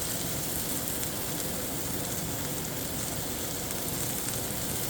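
Chicken sizzles steadily in a hot pan or on a grill while cooking for Monterey chicken, giving a constant, dense crackle at moderate level with no talk.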